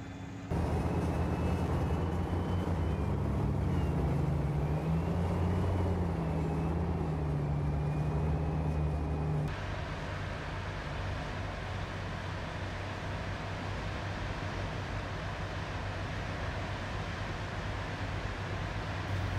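M60 tank engines running in a combat video game, a loud continuous low diesel rumble with a whining tone, the timbre shifting abruptly partway through and then droning on steadily.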